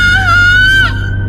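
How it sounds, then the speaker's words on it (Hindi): A woman screams loudly in a Hindi horror story sound effect. The shrill, wavering cry is sustained for about a second and then breaks off abruptly. "इसको सुन के कनक जोर से चीखी"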